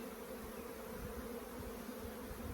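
Honey bees fill an opened hive with a dense, steady buzzing hum, the colony's brood frames packed with hatching bees, nectar and drones; the drone stays constant and close, with no talk.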